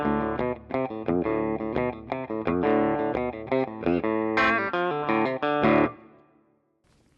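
A Telecaster through a Fractal Deluxe Reverb amp preset with plate reverb plays a bright, twangy country lick of quick picked notes and chords, ringing alone before fading into a reverb tail.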